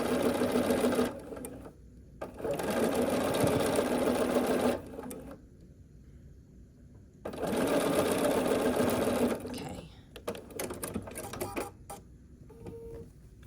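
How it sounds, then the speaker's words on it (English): A sewing machine stitches an Ohio star quilt block seam in loud sustained runs, several bursts of whirring separated by brief pauses to reposition the fabric, with a few light clicks between. "And then we're gonna sew along this length"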